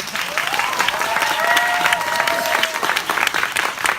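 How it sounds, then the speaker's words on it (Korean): An audience at a film stage greeting applauds loudly and continuously, with a few bright whistles and cheers rising over the dense clapping before it starts to thin out toward the end. "박수 좀 주셨으면 좋겠습니다."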